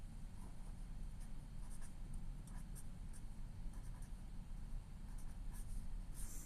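Pencil scratching on paper while a math solution is written down, a soft, steady, faint scratching over low background hum, with no talking.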